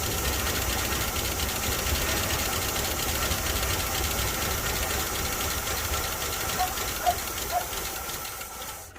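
A 1978 Oldsmobile Cutlass barn find runs steadily with a continuous engine drone that holds at an even level, with a few small knocks and clicks near the end and no talk over it.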